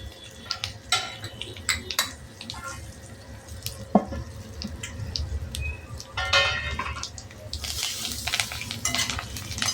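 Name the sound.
coriander leaves frying in oil with poha chivda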